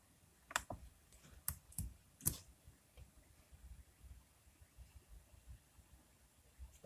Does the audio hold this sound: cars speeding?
no